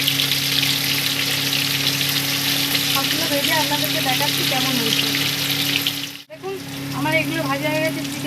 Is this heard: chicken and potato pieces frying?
yes